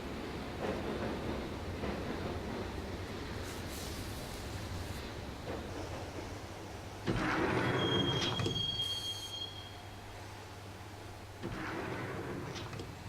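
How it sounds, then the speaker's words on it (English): A train ride in the video game Max Payne, with a steady rumble of carriages on rails, rising into loud screeching wheel squeals midway and again near the end, continuous and close. "the train doors had already shut behind me, and I was in for the ride"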